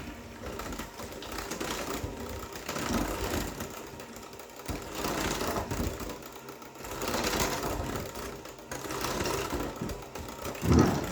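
An electric hand mixer whirs steadily through cookie dough with vanilla, its motor hum rising and dipping in uneven surges for several seconds.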